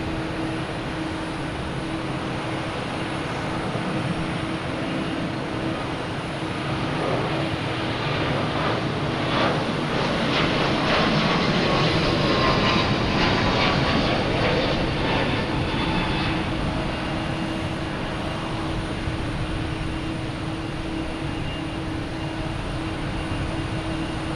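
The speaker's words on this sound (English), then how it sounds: "Another Delta taking off, heading to Phoenix, A321neo." A Delta Airbus A321neo taking off from Boston Logan for Phoenix produces a long, loud, steady engine roar that swells toward the middle with rippling texture, then eases slightly as it recedes.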